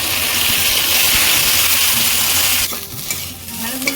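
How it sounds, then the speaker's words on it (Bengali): Okra frying in hot oil, a loud dense sizzle that drops abruptly partway through to a quieter bubbling with faint stirring sounds. "এবার আমি ঢ্যাঁড়সগুলো ভেজে নেব"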